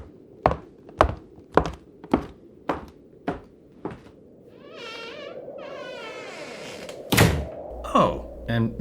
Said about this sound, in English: Then shut the bedroom door.